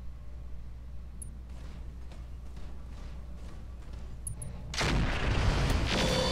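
Sniper artillery fire from the Roguetech mech game, a Treadnought battle: a low rumbling backdrop gives way to a loud, sustained blast of broadband noise in the final second and a half, with no talk.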